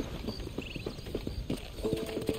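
Horse hooves clip-clopping at a walk in the video game Red Dead Redemption, a quick regular rhythm of fairly soft, close footfalls with a brief whinny-like tone near the end.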